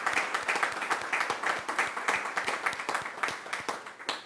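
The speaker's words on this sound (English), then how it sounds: "So round of applause." Audience applause at a town board meeting, a steady patter of many hands clapping together at moderate volume, continuing for several seconds with no voices over it.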